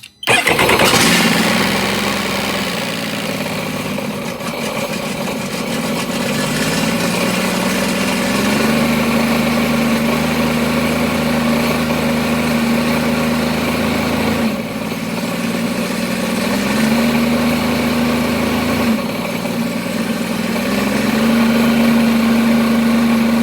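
A 2018 Sea-Doo Spark jet ski engine cranks and catches, then settles into a loud, steady close-up idle with slight rises and dips in pitch, and a faint beep tone appears during the run.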